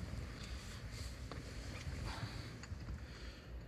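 Wind blows outdoors beside a 2006 Peugeot Expert van, a faint, steady rumble buffeting the microphone throughout without talk.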